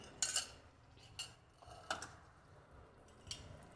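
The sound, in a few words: bottle gourd and chana dal being added to a kadai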